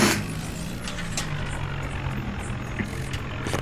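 Tractor engine in a farming video game idles and rumbles steadily while reversing to hitch a trolley, a low continuous drone with faint clicks, no talk.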